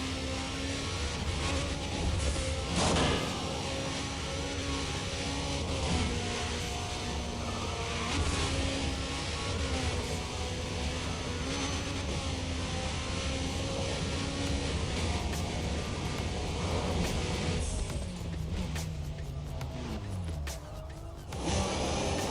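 A Porsche 911 Turbo driving in the racing game Need for Speed World, its engine droning steadily with shifting pitch as it accelerates and shifts, loud and continuous, with a brief drop near the end.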